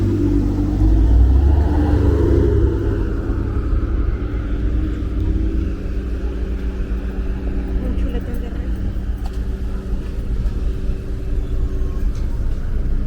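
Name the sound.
car driving past on Brooklyn street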